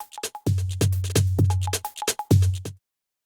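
Kontakt 6 sampled instrument playing a short rhythmic pattern of plucked, percussive notes whose volume swells up and then fades back down, ending in silence.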